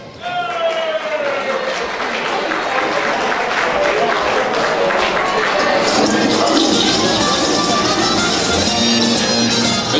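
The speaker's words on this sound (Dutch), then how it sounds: "onder uw applaus, votre applaudissement," Steady, loud audience applause with a few cheers fills the room for candidate Eddy's show in a Belgian prince contest, dense clapping throughout with crowd noise and a voice briefly over it at the start.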